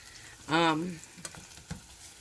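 Half an onion sautéing in a small sauce pot for meatball gravy, a quiet close sizzle with light stirring taps, broken by a brief spoken sound near the start.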